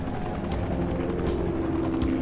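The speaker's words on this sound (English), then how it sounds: "Oh, look at his helicopters arrived." A helicopter arrives in the video game Dying Light, heard as a steady rotor drone with faint rhythmic chopping that holds at an even level throughout the short moment.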